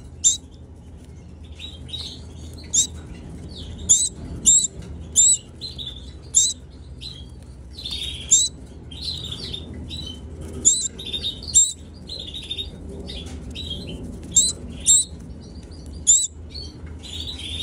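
Canary chicks begging to be fed make repeated sharp high chirps in quick bursts, loud and close, over a low background rumble, with no talking.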